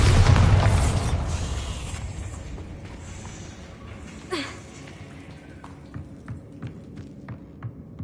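A Bombarda explosion spell in the game Hogwarts Legacy goes off with a big low boom at the start, then a long rumbling fade, followed by scattered small pops and debris clicks.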